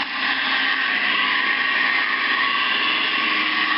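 Electric mixer running steadily while mixing pizza dough ingredients, a loud continuous motor whir at close range with no talking.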